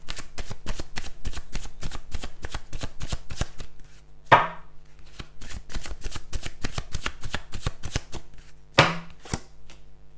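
Chuck Spezzano Enlightenment cards being shuffled in a rapid riffle of crisp flicks, with two louder bridge-style cascades partway through; close and steady, with no talking.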